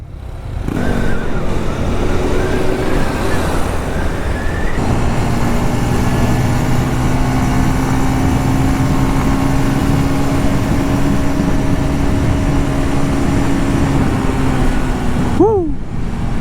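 A motorcycle engine runs loud and close for the whole stretch, holding a steady drone with shifts in pitch as it revs, then settles at the end; no talk over it.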